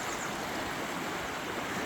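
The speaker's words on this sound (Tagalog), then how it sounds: "Ang bugso ng tubig ba." River water rushing steadily along a riverbank in Germany, a dense, even broadband roar of flowing current, close and continuous with no voices.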